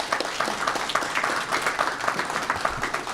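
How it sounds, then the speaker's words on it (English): An audience applauding for a person being recognized at a Los Angeles Board of Harbor Commissioners regular meeting, a steady patter of many hands clapping in a room at moderate loudness, with no talk over it. "I'd love to give her a round of applause"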